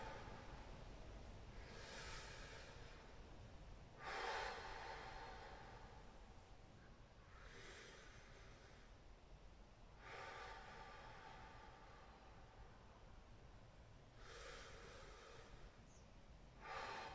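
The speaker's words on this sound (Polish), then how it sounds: "5 oddechów." Deep breaths are taken during an abdominal workout: slow, breathy inhale and exhale cycles, roughly every three seconds, heard close over a steady low background hiss, with no talking.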